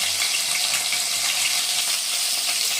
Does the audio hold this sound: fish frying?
yes